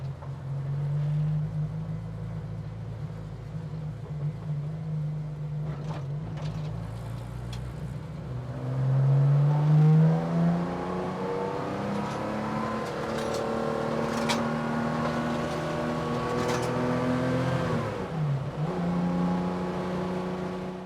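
A Porsche 911 drives slowly, with one tire rolling over a speed bump. Its engine hums steadily inside the cabin, then rises in pitch as it accelerates. A brief dip and thump comes near the end, with no talking.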